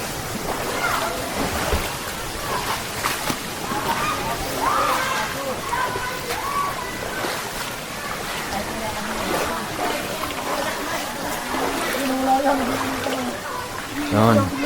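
Spring water flows and splashes steadily at Balumbong Spring, a hidden spring, with a continuous broadband wash that runs throughout, loud and close, while people talk over it.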